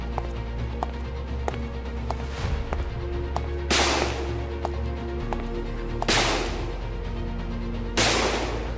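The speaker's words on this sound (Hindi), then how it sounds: "वो आउट ऑफ साइड फायर कर रहा है" Repeated sharp gunshots crack out from an unseen shooter during a tense armed standoff, about four loud reports spaced a couple of seconds apart over a low steady rumble.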